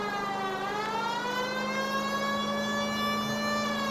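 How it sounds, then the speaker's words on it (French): A 1940s police car siren in L.A. Noire, a loud steady wailing tone with rich harmonics that dips and rises slightly, continuous and close, with engine rumble beneath and no talking. "Alors on allume la sirène parce que voilà on est des vrais policiers."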